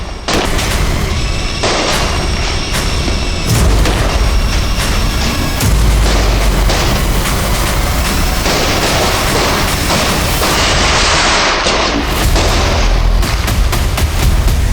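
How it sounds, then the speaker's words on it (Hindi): Firecrackers bursting through a Diwali evening, loud dense bangs and sharp cracks going off irregularly and continuously, some close and booming, others scattered further off. "मैं जानता था कि दिवाली के शाम में पटाखों के बीच"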